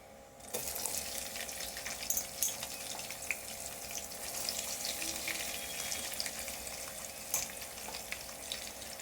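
Onions sizzling in plenty of hot oil in a pan for a Nellore-style fish curry, a steady loud frying hiss with occasional crackles throughout, no talking.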